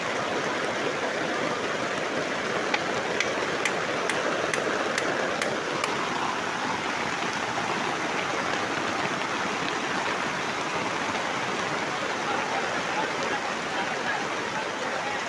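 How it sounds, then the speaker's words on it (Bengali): Heavy rain pours down in a steady, dense roar of hissing water, constant and unbroken throughout with a faint rhythmic tapping early on. "প্রচুর বৃষ্টি।"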